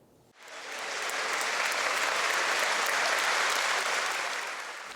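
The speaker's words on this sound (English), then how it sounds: "The sound of applause filled the Mabee Sports Complex" A crowd in the Mabee Sports Complex breaks into sustained applause, dense clapping that swells quickly and holds steady for several seconds.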